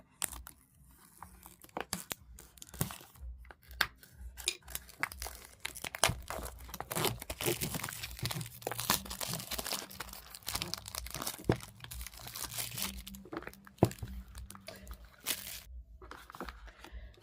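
Unwrapping and opening a Lenormand card deck box, with a lift-off lid: close crinkling and tearing of plastic wrap and paper, continuous rustles and sharp crunches over about seventeen seconds, alone with no talk.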